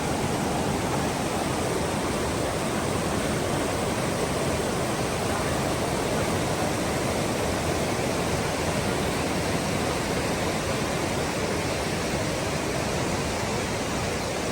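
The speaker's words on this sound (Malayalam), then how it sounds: "ഇത്രയും ശക്തിയായിട്ടാണ് വെള്ളം വന്നുകൊണ്ടിരിക്കുന്നത്" Floodwater surges forcefully through a landslide-hit area, a loud, dense, unbroken roar of rushing water that fills the whole stretch without pause.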